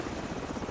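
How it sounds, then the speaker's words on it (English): A chopper gunner helicopter in Call of Duty 4: Modern Warfare, a brief steady pulsing rotor drone, fairly loud and continuous, alone without talk. "Is that a chopper gunner? I hear it."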